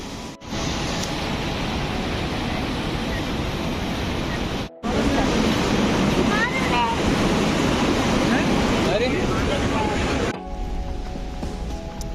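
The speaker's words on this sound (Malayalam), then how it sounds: "കളകളാരവ ശബ്ദം തുടർന്നുകൊണ്ട് പുഴയങ്ങനെ തുടർന്നൊഴുകിക്കൊണ്ടിരിക്കുകയാണ്" Near Huka Falls in Taupo, New Zealand, a river rushes in a steady, loud broadband roar that barely changes, broken only by two brief cuts, with no voices.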